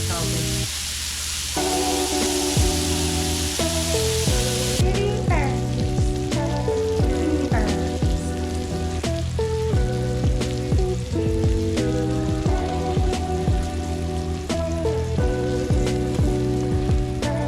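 Beef jerky strips sizzle and crackle in a frying pan, a loud, continuous hiss with scattered pops that persists throughout, mixed with tonal background sounds.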